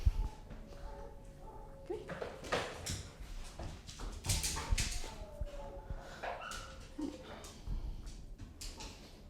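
An office dog at an animal shelter whimpers and gives high, brief yips in a room, with scattered rustles and thumps, while people talk nearby.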